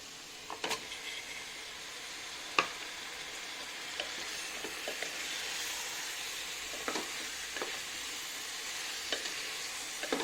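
Chicken pieces sizzling in masala in a hot pan for biryani, a steady soft hiss with scattered sharp pops and crackles, heard close and alone without any voices.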